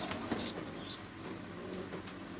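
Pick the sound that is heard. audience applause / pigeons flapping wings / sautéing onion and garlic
pigeons flapping wings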